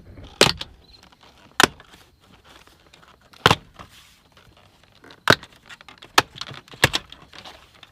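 A lower interior trim panel comes off a BMW E93 328i convertible with a series of sharp, close plastic clicks and snaps, spaced irregularly over quiet background handling noise, with no talking.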